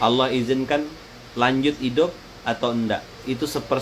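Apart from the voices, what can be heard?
No distinct noise like a dog, phone or traffic.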